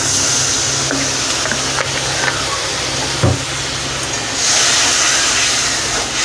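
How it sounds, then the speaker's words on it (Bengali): Ginger-chili spice paste with a little water being stirred in a hot pan, a steady hiss and sizzle with a few scraping knocks from the utensil and a brief thump, close up and continuous. "একটুখানি জল দিয়ে আমি নাড়বো"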